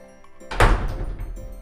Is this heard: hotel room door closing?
yes